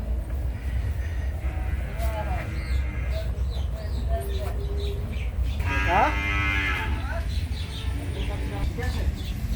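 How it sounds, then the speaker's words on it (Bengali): Cattle moo twice, long and low, at the Gabtali livestock market in Dhaka, over a steady background murmur of a busy crowd. "আপনাদেরকে নিয়ে এলাম গাবতলির গরুর হাটে গবাদি পশুর হাটে"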